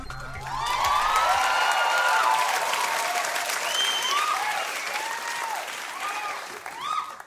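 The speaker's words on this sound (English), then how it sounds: "Thank you very much for your kind applause on my entrance." Studio audience applause greets a host's entrance, a sustained wash of clapping mixed with cheers and whoops from the crowd, loud and full, tapering slightly toward the end.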